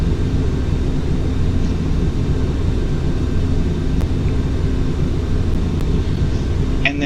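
Boeing 737-800 jet engines throttled back slightly in Microsoft Flight Simulator X, a steady, loud, low rumbling drone heard from the cockpit that holds an even level throughout, with no voices.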